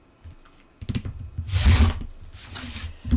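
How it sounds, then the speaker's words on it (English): Scissors snip through sewn fabric on a cutting board, a few quick crisp cuts with a louder rasping stretch in the middle, close by, with no talking. "I will just cut this in half"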